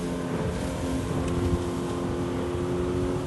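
Motorboat engine on a 3-Area-19 boat being pushed from about 4,800 revs, a steady droning tone held close and moderately loud with no voices.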